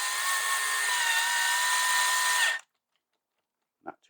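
A screw gun on a Stihl 55R string trimmer runs steadily and loudly for about two and a half seconds, then stops. Silence follows, broken by a faint brief knock near the end.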